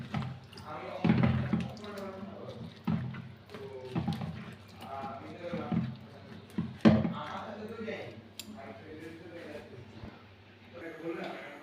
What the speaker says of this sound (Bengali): এগুলো ভালো করে আমি ধুয়ে নিয়ে তারপর আমি দেখাই